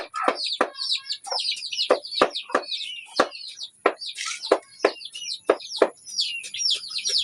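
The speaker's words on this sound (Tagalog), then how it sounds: "Mga manok." A flock of chickens clucks and chirps busily and close, with rapid overlapping calls and scattered sharp taps throughout.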